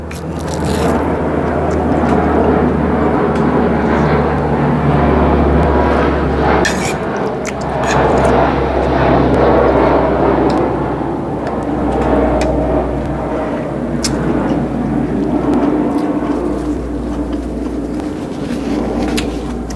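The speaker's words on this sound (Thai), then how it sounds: "เสียงเครื่องบิน" An airplane passes overhead with a loud, steady broadband roar and deep rumble that swells and holds throughout, alongside occasional clinks and scrapes of kitchen work in a rural home setting.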